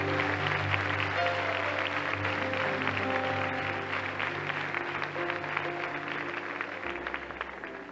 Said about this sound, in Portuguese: Vamos aplaudir ao nosso Pai Celestial.